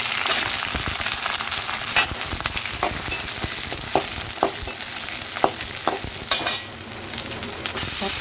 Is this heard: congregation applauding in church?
no